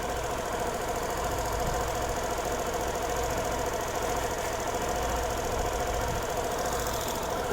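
A Suzuki Burgman scooter engine idling steadily just after starting, a continuous even mechanical hum with slight knocking texture, close and constant throughout with no talk.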